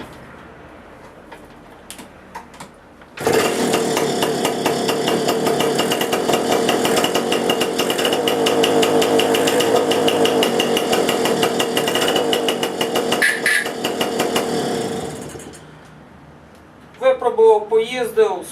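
Jawa 555 motorcycle engine starts abruptly and runs at a fast, steady two-stroke rattle for about twelve seconds, loud and close, then cuts off before a person talks.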